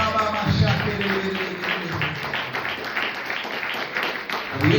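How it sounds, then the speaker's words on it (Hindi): A church congregation claps loudly during a Good Friday sermon, a dense, sustained wash of applause with a preacher's voice speaking over it. "यीशु के लहू के लिए जोरदार ताली बजाएं।"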